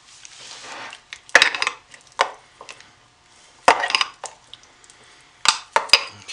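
Soap embeds being mixed into white soap batter, a series of sharp close knocks and scrapes in irregular clusters with quiet pauses between.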